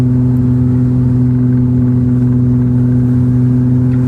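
Exhaust from a 1989 Toyota Mark 2 GT twin turbo drones steadily while cruising, a loud, close, low and even tone that holds without a break and with no voices.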